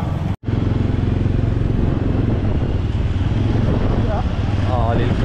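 Motorcycle riding at night through Basantapur, Kathmandu, with a steady loud engine drone and heavy wind rush, briefly cut out near the start, and a faint voice near the end.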